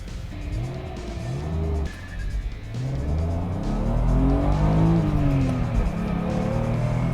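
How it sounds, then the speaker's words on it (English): An original BMW M5 launches hard from a standstill and accelerates toward 60 mph, its engine revving up through several gears with audible shifts, loud and close throughout with a steady rising drone. "let's give a 0 to 60 time a go"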